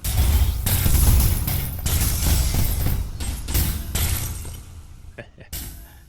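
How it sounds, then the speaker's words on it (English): Shattering effects from a video game burst out in a rapid series of loud crashing breaks with deep impacts, repeating irregularly and tapering into a few sharper cracks near the end. "some nice shattering effects."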